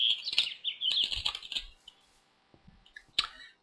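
Birds in the Minecraft video game flap and chirp in short, bright, fluttering bursts, with a few scattered clicks and quiet gaps between them.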